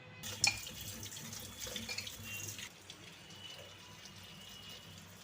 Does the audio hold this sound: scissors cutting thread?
no